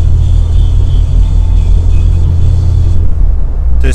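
A UAZ SUV engine drones at about 2000 rpm while cruising near 90 km/h, a loud, steady, low rumble heard from inside the vehicle that cuts off abruptly near the end.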